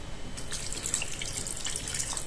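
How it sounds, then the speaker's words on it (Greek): Lukewarm water poured into a clay baking dish holding okra for a Greek oil-based stew, a steady close splashing trickle throughout with no talk. "Θα προσθέσουμε και χλιαρό νερό γιατί είναι πύληνη η γάστρα."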